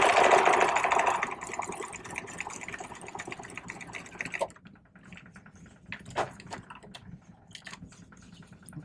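A serger sewing machine runs fast and loud for a moment while stitching fabric side seams, then falls to quieter, uneven bursts of mechanical stitching and handling noise.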